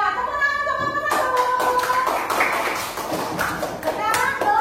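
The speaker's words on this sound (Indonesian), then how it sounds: "Tepuk tangan teman-teman." Classmates clap for a pupil in a classroom, a dense patter of hand claps starting after a second and continuing steadily to the end, with children's voices mixed in.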